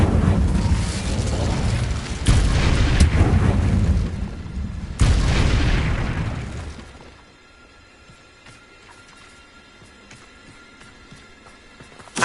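A fiery Incendio spell effect bursts out as a loud, roaring whoosh with booming blasts, a second surge partway through, then the roar cuts off and fades to a quiet low rumble.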